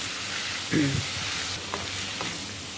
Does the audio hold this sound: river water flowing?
no